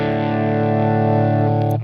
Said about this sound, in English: I'm going to increase volume to add a little bit more power amp distortion.